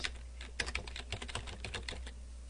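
Computer keyboard typing, a quick burst of keystrokes in a steady irregular patter, fairly close and alone with a low hum underneath.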